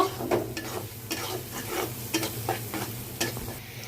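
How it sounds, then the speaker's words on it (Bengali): Chopped onion frying in oil in a pan while it is stirred, with steady low sizzling broken by repeated scraping strokes of the spoon, close and moderately loud, with no voices. "তেলে পেঁয়াজ কুচি দিয়ে দিলাম পেঁয়াজটা আমি হালকা ভেজে নিব"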